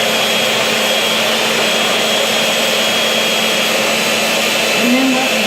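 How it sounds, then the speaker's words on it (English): Egg whites whipped until frothy, a steady, loud, unbroken whirr filling the whole stretch with no pauses or change in intensity. "what we're doing is we're whipping air into it"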